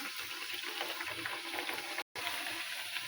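Nippattu dough frying in hot oil, a steady soft sizzle with bubbling and crackle running throughout, broken by a brief dropout near the two-second mark.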